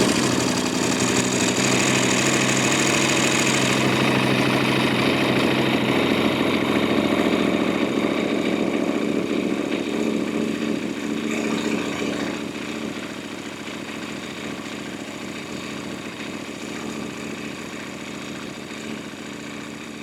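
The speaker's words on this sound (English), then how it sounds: "it does sound a little different. There's a little less ticking going on in the valve train." A KTM 890 motorcycle engine idles with a steady mechanical rumble and light valve-train ticking, close up and continuous, easing slightly quieter in the second half.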